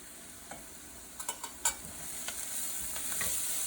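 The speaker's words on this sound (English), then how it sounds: "Be sure that you stir this in quickly and right away." Ground spices, turmeric powder among them, stirred into a sizzling pan for baigan bharta, with a steady fry hiss and a few scattered scraping strokes of the spoon, close and fairly quiet.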